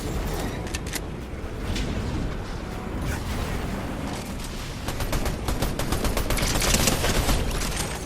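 Gunfire in the game Fortnite, dense rapid bursts of shots crackling almost continuously over several seconds, loud and busy, building toward the end, with no voices.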